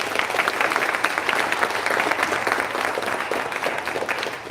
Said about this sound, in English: One more round of applause for all of our judges.